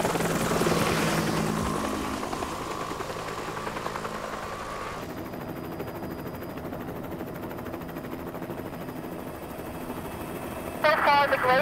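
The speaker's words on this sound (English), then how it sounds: "And helicopters." A helicopter drones steadily over British Columbia's fly-in resort terrain near glaciers, the loud rotor and engine noise filling the scene, shifting in tone partway through, with brief cabin sounds near the end.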